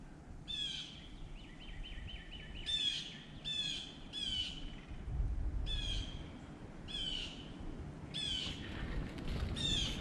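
Repeated bird calls ring out in short, bright bursts at a moderate distance at a campground near Muskogee, Oklahoma, a steady outdoor rumble underneath and no voices.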